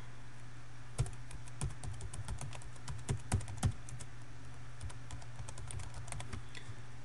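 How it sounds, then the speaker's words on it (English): Keys on a computer keyboard are tapped in an irregular run of quick clicks over a steady low hum, with a few louder keystrokes standing out and no voices. "And let's go ahead and type in the address."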